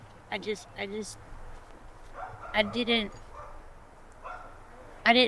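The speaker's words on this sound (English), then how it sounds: "that's my dog" A dog barks and yips a few times outdoors, short sharp calls scattered across the moment, mixed in with a person talking nearby.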